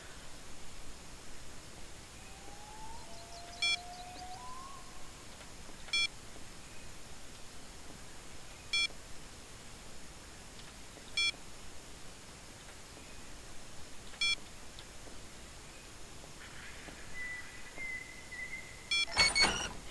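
Keypad beeps from a door panel in Jurassic Park: Trespasser, a lab setting: about seven short, evenly spaced electronic beeps over steady hiss, ending in a longer tone and a brief cluster of chirps.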